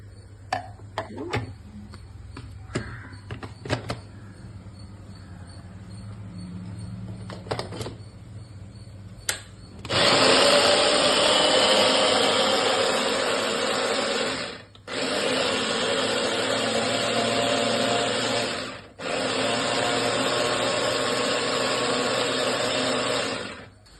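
An electric chopper grinding mango pieces, a loud close whirring buzz that runs in three long bursts with short pauses, after a stretch of faint clicks and handling noises.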